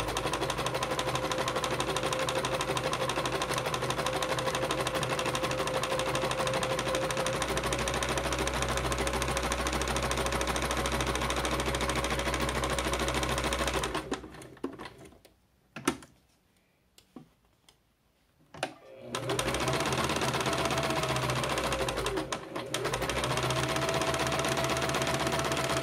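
Sewing machine stitching a curve on a patchwork strip pouch, a steady fast mechanical whirring that stops for a few seconds midway, then resumes.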